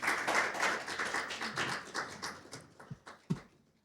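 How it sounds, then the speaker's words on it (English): Audience applause at a symposium on injured-worker rehabilitation, a steady patter of claps that thins out and ends with a few isolated final claps. "Let's give her another round of applause"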